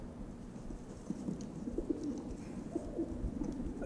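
Homing pigeons coo softly and repeatedly in a loft on race day, with low, rolling calls overlapping against a faint background hum.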